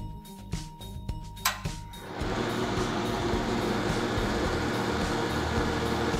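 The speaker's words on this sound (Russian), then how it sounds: "Далее включаем кнопку вентилятора на панели управления." A few light clicks and knocks give way to the fan of a RedVerg RD-GH30R propane gas heat gun switching on. It becomes a loud, steady, close whooshing roar that holds to the end.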